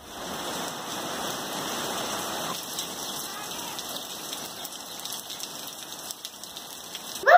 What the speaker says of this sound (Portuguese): logo depois começou a chover assim, ó